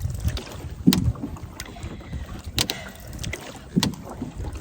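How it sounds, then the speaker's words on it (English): Canoe strokes with a single-bladed paddle splash and gurgle in a steady rhythm, three distinct strokes spaced a few seconds apart over soft wind and water noise, close to the microphone. "I want to talk some of the mechanics of paddling with a single blade"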